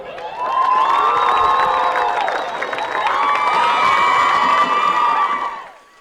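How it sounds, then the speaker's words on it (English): A crowd cheers and applauds the South Bunbury Football Club, 2020 South West Football League women's premiers, at Hands Oval: loud sustained shouting and high whoops rising in two long swells before fading. "Round of applause to South Bunbury."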